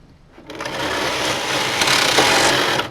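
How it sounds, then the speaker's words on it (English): A domestic knitting machine carriage drives across the needle bed to select needles, giving a loud, steady mechanical whirring rush close by that runs without a break. "Make sure your carriage is on KC and pull it back past the marker point."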